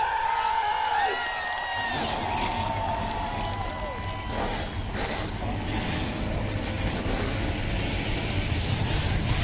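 A field of race car engines firing up together in a sim racing game at Indianapolis Speedway, a dense sustained roar with rising engine whines, loud and continuous.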